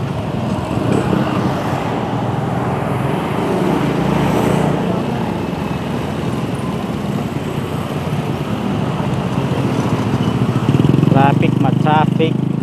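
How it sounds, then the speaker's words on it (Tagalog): Slow traffic of cars and motorcycles rumbles steadily on a congested road near the C5 Extension flyover in Parañaque, with a dense engine drone throughout and a louder motorcycle passing near the end. "Traffic."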